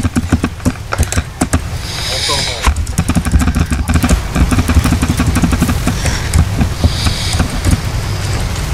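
Airship engines in Guns of Icarus chug in a steady, fast, rhythmic pulse close by, some running in need of repair, while a voice talks over them.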